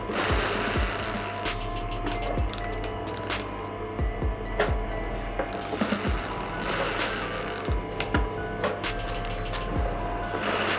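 A sewing machine stitches the princess seam of a blouse in a V shape, whirring in quick rhythmic bursts that start and stop, close and clear, with no talking.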